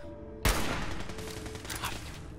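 Gunfire in the video game Fallout 4: a sudden loud blast opens, followed by a dense, sustained roar of shots and echoing noise that slowly fades, with no speech.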